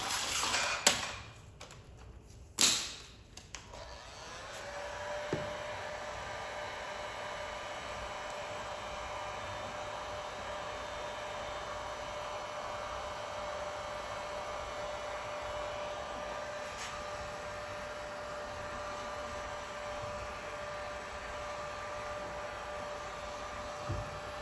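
A heat gun blows over dark smoke tint film on a Tesla Model 3 tail light, a steady airy whoosh and hum that holds level for the whole stretch after a few brief handling knocks at the start.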